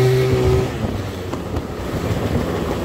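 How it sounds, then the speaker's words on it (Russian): A moped engine runs steadily while riding after clutch springs and torque driver were changed, a continuous close drone with a brief higher tone at the start settling into a rough, even hum. "Вот так должен мопед летать."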